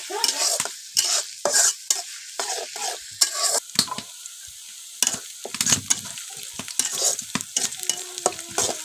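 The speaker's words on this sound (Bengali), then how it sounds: "এখন ভাজা ভাজা করুন" Onion being fried and stirred in a pan for a prawn dish, with a steady sizzle broken by repeated scraping and clinking of the spoon against the pan, close and fairly loud, without talk.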